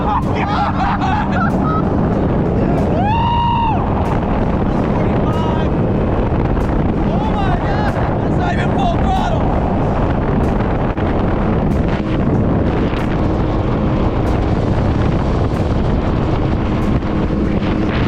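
A 175HP outboard motor pushes an 18-foot Bay Stealth boat at speed, producing a loud, steady roar mixed with heavy wind rush across the microphone. Muffled voices are faintly present.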